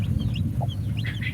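A hen and her newly hatched chicks cluck and peep softly over a steady low hum, brief scattered calls at close range with no voices.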